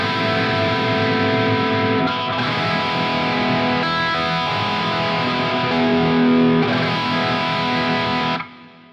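An electric guitar played through a roughly 30-year-old Rocktek CHR-01 chorus pedal with a shimmering, widened chorus effect over a distorted tone, sustained chords ringing steadily before cutting off near the end.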